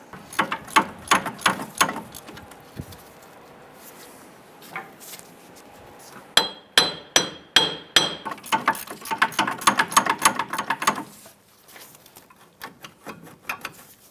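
Ratchet clicking in repeated bursts while removing a rear hub bolt on a 2005-2010 Chrysler 300 during a wheel bearing and hub replacement, with rhythmic mechanical clicks near and clear, pausing briefly before resuming faster.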